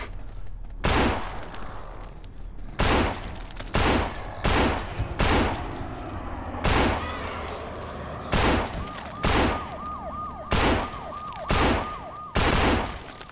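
Gunfire in the zombie co-op game No More Room in Hell: about a dozen loud, sharp shots spaced irregularly, with a warbling siren-like tone rising and falling midway.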